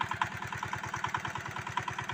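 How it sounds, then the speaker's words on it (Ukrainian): A Zubr 8 walk-behind tractor engine runs close by on a first outing through a muddy bog, chugging in a steady, fast rhythm of even pulses with no talk over it. "Трактор їде, всі довольні"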